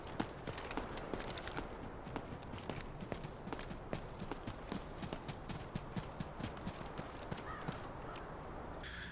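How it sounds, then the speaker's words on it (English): Footsteps from the shooter game Delta Force with an EQ and compression boost applied, steady repeated sharp clicking steps running throughout at a close, even level with no talk. "footsteps are louder, clearer, and easier to pinpoint than before."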